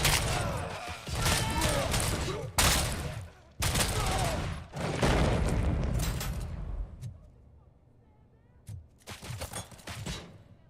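Heavy gunfire in RoboCop: Rogue City, loud sustained bursts of automatic fire split by short gaps, then thinning out to scattered shots near the end, with shouted voices in the mix.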